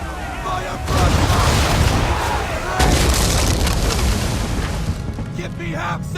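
Ship cannon fire in the Assassin's Creed III video game during a naval battle, heavy booming blasts at about one second and again near three seconds, rumbling on under shouted voices.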